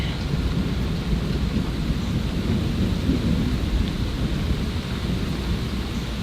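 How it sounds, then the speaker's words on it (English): Thunder in a severe thunderstorm rolls on continuously at low pitch, a steady deep rumble mixed with rain falling throughout. "It's like just a continuous roll."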